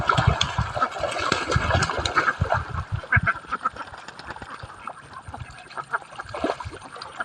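Ducks quack in a flock as they are herded away from their pasture, a dense, continuous chatter of overlapping calls at close to middle distance, loud at first and then easing somewhat.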